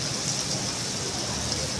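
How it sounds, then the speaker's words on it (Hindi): Steady rainfall patters down as a dense, even hiss of falling raindrops, continuous and fairly close throughout with no voices. "बारिश की बरसती बूंदों ने"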